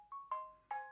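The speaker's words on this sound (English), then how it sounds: "that's my phone going nuts" Soft, clear electronic notes from a ringing mobile phone repeat in a short rising pattern, each tone ringing on briefly, with nothing else heard.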